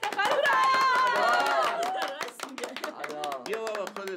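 Enthusiastic applause from a small group at a family gathering honouring a father, loud clapping with overlapping cheers and chatter throughout.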